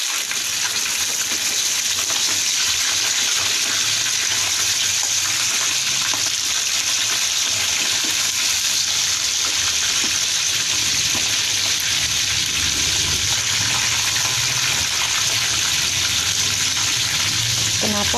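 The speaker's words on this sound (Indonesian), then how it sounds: "Kenapa aku gorengnya di teflon?" Milkfish sizzles and crackles steadily in hot oil in a nonstick pan, a constant close frying hiss with no talk.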